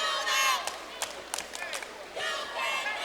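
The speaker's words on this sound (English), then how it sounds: "As the crowd chants, you can't do that" A basketball arena crowd during a college game, with bursts of chanting and cheering rising and falling under a commentator's voice.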